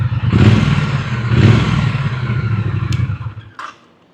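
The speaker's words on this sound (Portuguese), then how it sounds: "Olha como é que ronca lindo." A Triumph motorcycle engine roars and revs in two strong surges, then settles to a steady rumble that cuts off near the end.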